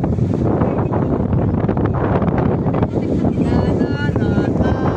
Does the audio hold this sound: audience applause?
no